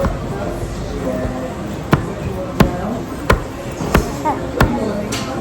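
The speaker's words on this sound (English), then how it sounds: "He's actually lifting and banging my hand on the table." A hand is lifted and banged on a table, five sharp thumps spaced evenly about once every two-thirds of a second, heard over background chatter and murmuring voices.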